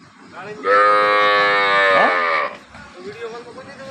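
A dairy cow at a cattle market lets out one loud, sustained moo of nearly two seconds that ends with a falling pitch, close to the listener, followed by low background noise.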